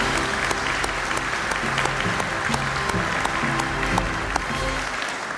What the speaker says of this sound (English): let's give a round of applause to our troops out on formation today.